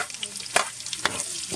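Onions go into a pan of garlic already frying to a light brown, setting off a steady close sizzle with two sharp crackling bursts as they hit the hot oil.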